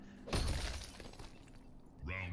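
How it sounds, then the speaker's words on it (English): An ice clone shatters in a Mortal Kombat X fighting match, a sharp glassy burst that rings out briefly over steady game noise and a commentator's voice. "Kept it safe, and with that shatter with the clone, just adding chip damage"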